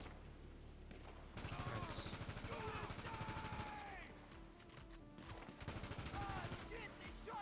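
Gunfire in the GTA V video game: sustained rattling volleys of rapid shots layered over game sound, with a pause midway before a second loud stretch of firing.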